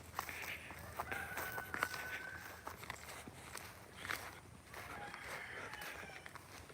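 Quiet outdoor scene with a chicken clucking and a short crowing call, alongside footsteps shuffling nearby.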